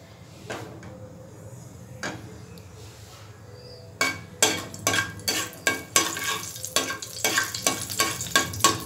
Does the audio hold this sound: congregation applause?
no